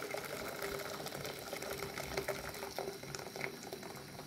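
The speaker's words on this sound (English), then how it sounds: "Then I already have pre-boiled water, so I'm gonna add pre-boiled water." Pre-boiled water pours into a pot over high heat while cooking a spicy-sweet Korean mushroom dish, making a continuous bubbling, rushing hiss at low level.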